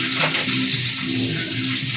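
Green chillies fry in a hot pan, giving a steady, close hissing sizzle with a faint spike of crackle near the start.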